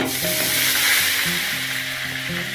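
Onion paste and ginger-garlic paste frying in the oil left after the potatoes, for a loitta fish kofta curry; a loud, steady sizzle with a crackling hiss runs unbroken throughout.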